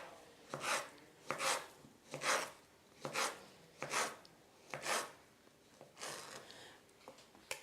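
Bananas being chopped with a knife on a board, eight or nine evenly spaced cuts about a second apart, each a crisp, close thunk-and-slice with quiet pauses between.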